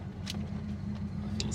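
An abandoned $200 muscle car rescued from a junkyard idles and rolls along with a low, steady engine rumble, close and continuous, with brief higher noises on top.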